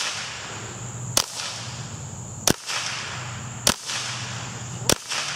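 Four sharp cracks from a suppressed Ruger 10/22 rifle fired outdoors, evenly spaced about a second apart, each a brief snapping report over a steady background of insect hum.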